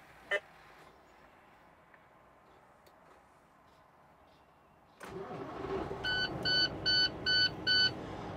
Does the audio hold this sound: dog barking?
no